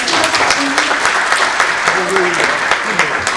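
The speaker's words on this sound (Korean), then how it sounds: "박수 좀 부탁드리겠습니다" Audience applause at a Korean franchise industry association breakfast forum lecture, a steady dense patter of clapping filling the room, with a voice talking over it.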